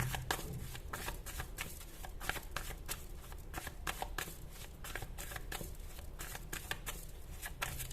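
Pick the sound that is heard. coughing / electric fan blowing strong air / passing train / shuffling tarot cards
shuffling tarot cards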